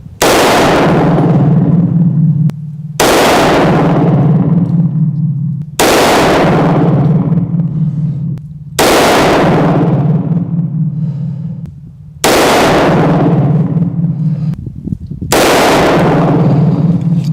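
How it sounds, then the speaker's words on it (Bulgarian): A Staccato 2011 pistol fires 115 grain Blazer ammunition at a 21 m range: six loud, sharp reports spaced roughly three seconds apart, each ringing out with a long echoing decay, no speech between shots. "Сега Робърт ще направи 6 изстрела с 115 грейновите Blazer, пак на дистанция 21 метра."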